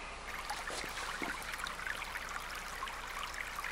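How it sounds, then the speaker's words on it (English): Engine oil trickling out of a lawn mower tipped onto its side, a steady, faint liquid dribble that continues without break and without any talking. "So you just tilt it on its side, and the oil should come right out."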